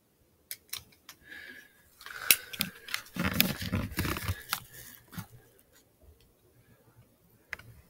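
Reloading a Webley Mark 1 revolver outdoors: a run of metallic clicks and rattling handling noises over several seconds, with sharp ticks of the cylinder and cartridges, fairly close, no talk, ending with a lone click.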